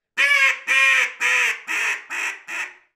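Power Calls Impact molded duck call gives six loud, close quacks in a descending series, each burst short and evenly spaced, alone with no other sound.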